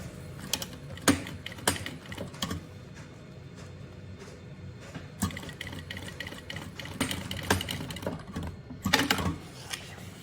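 A sewing machine stitches along the edge of a bunny-shaped backpack in uneven mechanical bursts with short pauses, close and clear, with no talking.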